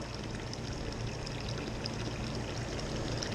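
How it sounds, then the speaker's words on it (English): Water pours steadily into a blood orange beer mash during home brewing, a continuous rushing, trickling stream with no break and no talking. "So a little bit more water, then we're going to let this thing mash"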